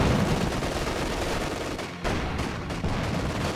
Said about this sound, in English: We will, in fact, see the MG built and start shooting away.